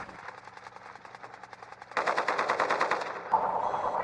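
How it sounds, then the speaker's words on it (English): Automatic gunfire rattles in Warzone, a steady run of rapid evenly spaced shots that grows louder and closer partway through, with a sharp impact near the end. "How is he still shooting me?"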